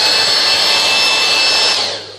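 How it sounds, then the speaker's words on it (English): A hairdryer blows steadily on a homemade squishy, a loud, close, even whoosh with a high whine that holds for about two seconds before trailing off. "So I'm just drying my squishy with a hairdryer."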